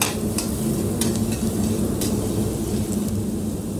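Garlic frying in hot cooking oil for carbonara crackles as a steady, dense sizzle throughout, with occasional sharper pops rising above the continuous hiss.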